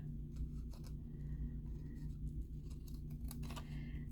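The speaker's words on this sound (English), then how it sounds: "I see that I need to just trim this off a bit" Scissors trimming a paper strip for a stamped paper craft, a few faint crisp snips close by over a low steady hum, with no talk.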